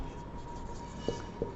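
Marker or chalk writing on a board while an equation is worked out, faint scratchy strokes with two brief louder taps near the end, no voice.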